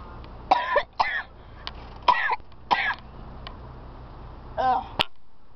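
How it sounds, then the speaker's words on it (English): Several short coughs or throat-clearing bursts from someone reacting to tasting salt, spaced irregularly across a few seconds, close and fairly loud, with a sharp click near the end. "Salt makes me cough."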